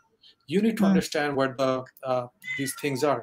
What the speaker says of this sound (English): I'm really sorry about my cats again.